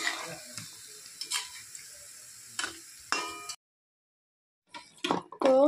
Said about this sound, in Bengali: তো এখন আমি বাদ বাকিগুলোও ভেজে নেব